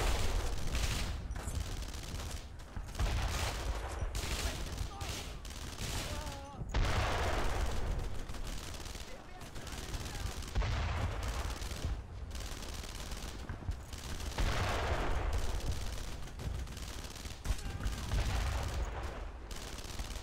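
Sustained gunfire from the PS2 video game Brothers in Arms: Road to Hill 30, with rifle and machine-gun bursts cracking almost continuously over twenty seconds amid loud battle din, and shouted voices now and then.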